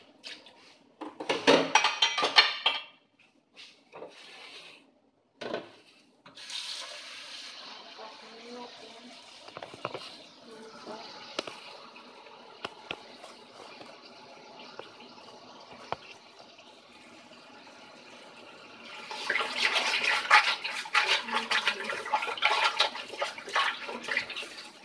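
Running water in a home kitchen sink while washing up, splashing in bursts that stop and restart, a strong surge near the end, with a voice talking in between.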